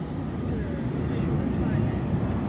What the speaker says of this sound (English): They have a plane.